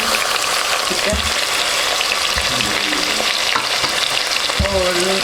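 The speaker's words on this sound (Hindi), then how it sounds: "हमारा लहसुन भी फ्राई हो गया। अब मैं इसमें टमाटर ऐड कर दूँगी" Garlic and tomatoes fry in a pan with a loud continuous sizzle, broken by scraping stir strokes and occasional clinks of a utensil against the pan.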